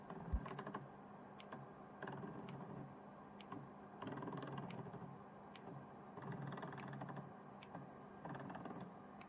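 Lens focus motor of a Yaber Ace K2s projector, its teeth apparently broken, grinding and clicking in a quiet room: faint mechanical rasping that pulses in repeated bursts about every second or two.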